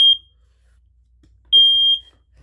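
Two short, shrill electronic beeps from a smoke alarm, the first brief and the second held for roughly half a second, loud and close against near silence.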